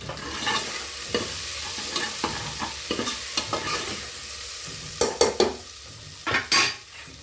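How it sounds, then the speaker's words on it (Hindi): Vegetables roasting in a pan for sambar with cumin, sizzling steadily while a utensil stirs and scrapes in irregular clanks and rasps, loud and close. "हमारी सब्जियां तो वैसे भून रही है।"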